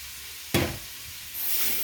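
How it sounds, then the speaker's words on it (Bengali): Spice paste sautéed in a pan for a Bangladeshi vegetable dish, with one sharp sizzling burst as it is stirred, then a softer steady hiss of frying that rises again near the end. "একটু ভালো করে কষাই দেবেন"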